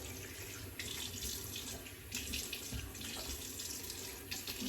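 A tap runs into a sink to rinse alum off after a shave, a steady close stream of splashing water with slight surges and no voices.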